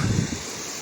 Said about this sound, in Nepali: यो खोला भयो